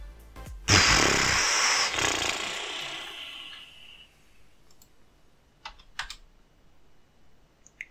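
Computer keyboard typing: a loud burst of rapid key clicks sounds near the start and tails off, then a few sparse, sharp clicks follow later against a quiet room background.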